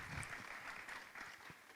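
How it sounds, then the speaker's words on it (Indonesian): Brief, faint applause from an audience, a soft patter of clapping heard at a distance. "Tepuk tangan untuk Kak Jo."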